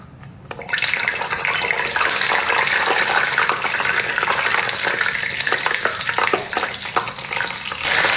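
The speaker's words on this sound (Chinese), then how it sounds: "有很多老铁想看我再炸一次大豆虫，咱们今天再炸一个" A big green caterpillar from a vegetable garden frying in boiling oil, a loud steady bubbling sizzle with dense crackles and pops that starts after a brief quieter moment and holds for several seconds.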